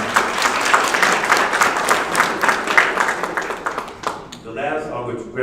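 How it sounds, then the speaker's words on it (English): Graduates receive a round of hand clapping from the audience at a Pitt County RRS graduation ceremony, dense crowd applause for about four seconds before it fades and a voice starts talking. "Let's give them a hand clap one more time."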